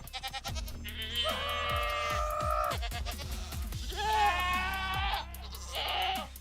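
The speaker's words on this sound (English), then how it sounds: "Minecraft goat, yeah." Goats from the Minecraft video game bleat in several wavering, nasal calls, loud and close, with short gaps between them and no talking.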